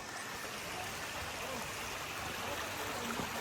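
Rushing water flows past a landslide in Bukidnon, a steady broadband wash of current heard continuously at moderate distance, with a voice faintly present underneath.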